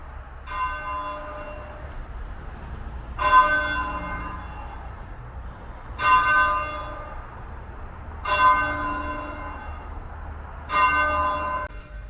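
Church bells in Colley Gate, Cradley, in England's Black Country ring out in five slow, resonant strikes spaced a few seconds apart, fairly close, each tone lingering over a low background hum.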